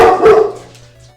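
A dog gives two quick, loud, close barks in succession, followed by a fading tonal whine as the sound dies away.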